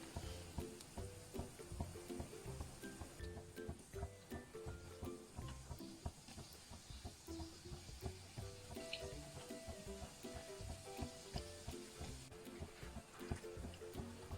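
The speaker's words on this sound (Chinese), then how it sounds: "慢慢的炸。" Small bread dough buns deep-frying slowly in plenty of vegetable oil over medium-low heat: a quiet, steady sizzle with soft crackles and bubbling, with no talk.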